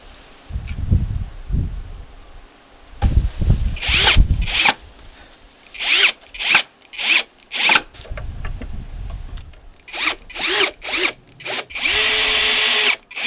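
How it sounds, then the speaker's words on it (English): Power drill driving screws into the frame of an IKEA storage box being made into a water table, heard as a series of short, loud whirring bursts close by, with clattering handling noises between them. "Pre-drill, glue, screw in"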